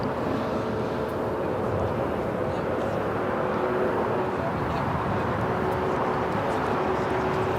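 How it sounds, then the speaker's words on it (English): A Delta Airbus A350-900 arriving at Los Angeles International Airport on a flight from Atlanta gives a steady, continuous jet roar that holds at an even level from start to finish. "Another heavy arriving on the north side. Delta Flight 898, A350-900, coming from Atlanta"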